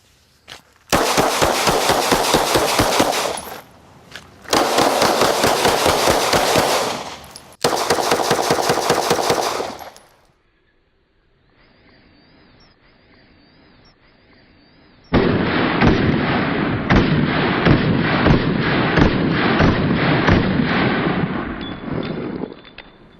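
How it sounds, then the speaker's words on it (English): Rapid handgun fire during a close-range retention shooting drill, three dense bursts of quick shots followed after a short pause by a longer sustained volley, loud and close with no talk. "What I'm going to do here is a retention shooting drill."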